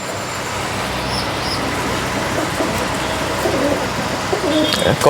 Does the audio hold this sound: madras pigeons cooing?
yes